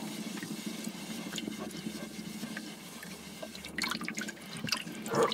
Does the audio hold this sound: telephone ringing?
no